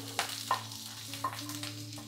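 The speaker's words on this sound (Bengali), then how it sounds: "আগে একটু পেঁয়াজটা ভেজে তারপর ক্যাপসিকামগুলো দেবো" Chopped onions sizzle in a large frying pan with a steady low hiss, broken by a few sharp scrapes and stirs of a spatula near the start and middle.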